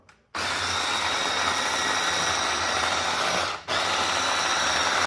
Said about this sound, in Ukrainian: В блендері дві цибулини, два кусочка, два зубочка чесника.